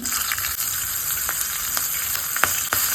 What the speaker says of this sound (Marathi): सुरचुरीत फोडणी करायची चुरचुरीत म्हणजे थोडीशी तिखट आणि थोडस जास्त तेल घ्यायचं